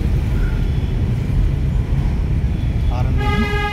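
A car horn honks briefly near the end over a loud, steady engine and road rumble inside a moving car during a driving lesson.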